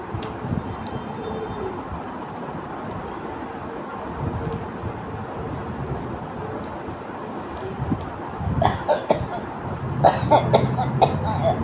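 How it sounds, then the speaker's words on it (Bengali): Someone coughs after eating yogurt, with a few sharp bursts clustered toward the end over a steady rumbling, windy background noise. "দই খেয়ে কাশি হয়ে গেল"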